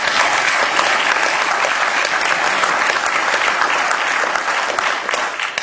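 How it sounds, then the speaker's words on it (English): Steady audience applause at a software programming talk, loud and dense, sustained throughout without any talking. "Yes, applause would be okay."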